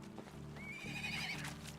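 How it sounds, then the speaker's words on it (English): A horse whinnies in Medieval Dynasty, one rising, quavering neigh carried over a steady low hum of game ambience and faint hoof clops, near and fairly loud, with no talking. "But we do have a male horse too."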